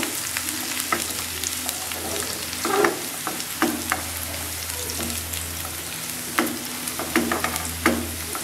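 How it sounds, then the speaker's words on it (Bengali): Onion, garlic and dried chilli fry in oil in a pan until light brown, giving a continuous close sizzle over a low hum, broken by frequent sharp scrapes and taps of a stirring spoon. "এবার সব কিছুকে আমি একটু হালকা বাদামি করে ভেজে নেব"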